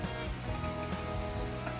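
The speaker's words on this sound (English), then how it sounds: "even though it's raining, it's great for the garden" Rain falling outdoors in a Newfoundland garden, a dense, steady patter of drops on nearby surfaces with scattered louder individual hits, no voices.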